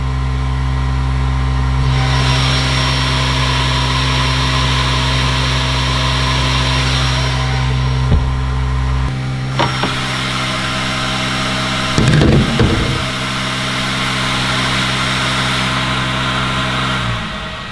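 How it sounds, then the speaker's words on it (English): Cooling fans on a Creality K1 Max 3D printer run loudly with a steady, droning whir and hum, rising and shifting in pitch as the fans ramp up and down, with occasional clicks and thumps close by. "this thing has like 1 billion fans on it, and it just kind of sounds like a jet engine sitting in the corner"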